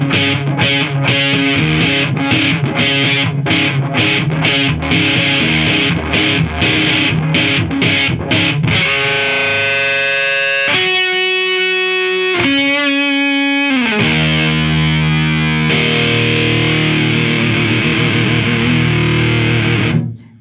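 An electric guitar through an EarthQuaker Devices Hizumitas fuzz pedal plays loud, saturated chords, first chopped in rhythmic stabs, then sustained notes ringing out with thick distortion.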